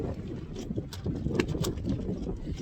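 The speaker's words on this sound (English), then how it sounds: "How windy is it? It's this windy." Strong gusty wind at a mountain camp rumbles and flaps against the microphone steadily, with faint rattling and knocking bursts from a shelter scattered through.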